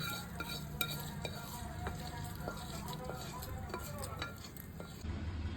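Mustard seeds and curry leaves crackle and sizzle in hot oil for a tomato chutney tempering, a steady frying hiss broken by small pops and a few light clinks of a stirring spoon against the pan.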